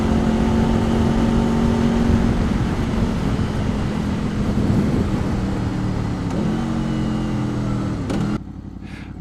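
A Honda VFR 800 VTEC motorcycle on a commute, its engine droning loud and steady with a held tone under rushing wind, then the note shifting near the end as the revs change.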